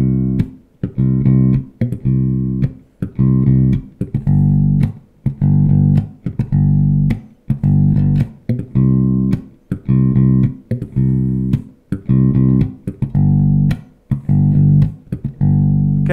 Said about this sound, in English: So let's try our bass line again, moving between the C and the G, but we'll start with two ghost notes and then move to the one